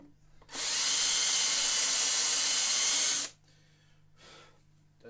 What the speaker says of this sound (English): this countersink thing here that I can make a groove with.